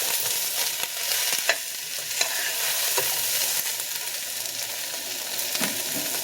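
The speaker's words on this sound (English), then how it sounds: "now we're going to add back the potato that we browned earlier." Browned potato pieces are stirred into a pot of vegetarian curry with mushroom, wheat gluten and onion, giving a continuous sizzle with scattered scraping clicks from the spoon.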